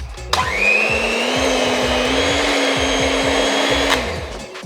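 An electric machine whisks eggs: its motor starts with a sharp click, holds a loud, steady whirring whine with rhythmic knocking from the beaters, then winds down and stops.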